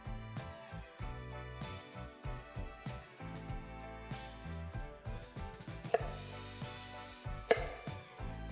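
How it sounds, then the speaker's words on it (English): Rhythmic scraping of celeriac and parsnip being shredded close up, steady repeated strokes with a couple of sharper knocks, over quiet background music. "Then shred the celeriac and parsnip."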